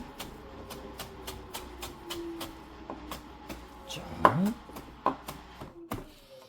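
A kitchen knife chopping carrots into thin julienne strips for kimbap, a series of quick, sharp, evenly spaced taps on a cutting board, close and fairly quiet, with some handling noise near the end.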